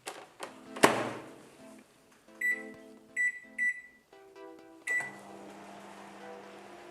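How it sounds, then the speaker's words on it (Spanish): A microwave oven hums steadily while baking cake batter, with a few bright electronic beeps and soft thunks from the door and buttons, close and fairly quiet with no talking. "una vez que tenemos la mezcla, la vamos a colocar en el microondas durante 7 minutos"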